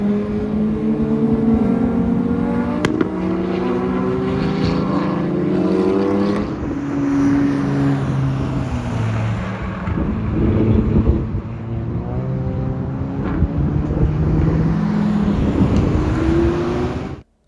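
Stock FL5 Honda Civic Type R driven hard on a race track, a loud, close engine droning and rising through the revs with repeated pitch sweeps as gears change, continuous and without talk.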